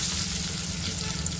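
Curry leaves dropped into hot tempering oil with turmeric, giving a loud, dense sizzle and crackle that stays steady across the short stretch, close up and with no speech.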